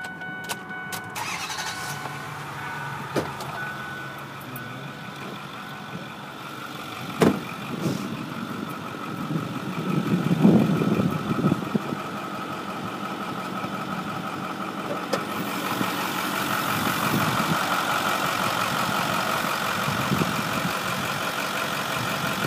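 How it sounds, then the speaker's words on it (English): A 2008 Ford F350 Super Duty diesel 4x4 pickup cranks and fires up close by, then settles into a steady, rattling diesel idle. A few louder revs and knocks come partway through before the engine evens out and keeps running. "to fire it up here real quick so you can hear it run"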